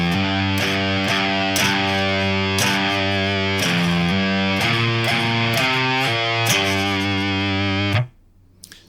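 A full stoner rock riff rings out on a distorted electric guitar in a pentatonic pattern, steady rhythmic notes shifting at a regular pulse for about eight seconds, loud and close, then cut off into near silence.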